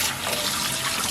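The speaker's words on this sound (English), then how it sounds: "I make sure that the water is warm, and then I will just give it a good rinse." Warm tap water running loud and steady over a cast iron pan as it is rinsed, a continuous splashing rush with no talk.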